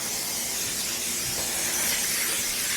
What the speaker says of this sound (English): I'm gonna hit it off with some non-stick cooking spray